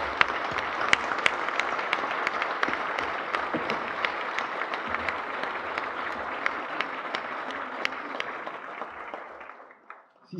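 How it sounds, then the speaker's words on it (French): Sustained applause from a crowd at a town's New Year address in Lagny-sur-Marne, dense clapping at steady intensity for about ten seconds, then trailing off at the end. "eh bien, ils méritent vos applaudissements."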